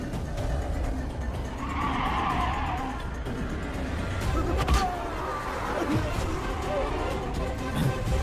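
A car skids and screeches to a halt on a road amid a noisy, chaotic scene, with shouting voices mixed in over the sustained rumble and tire noise.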